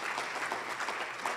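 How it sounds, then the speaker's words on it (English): A luncheon crowd at a Rotary event in Seattle claps in a brief, fairly soft burst of steady applause that fills the room. "we should clap for that"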